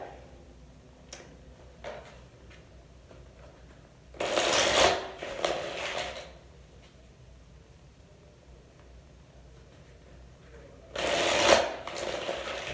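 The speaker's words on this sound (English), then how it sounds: "One more shuffle." Two bursts of cards being riffled and shuffled, several seconds apart, close and crisp, with faint taps and handling noises between them.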